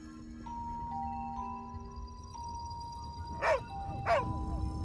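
A dog lets out two short, faint yips or whimpering barks close together near the end, over a quiet background with a low musical hum.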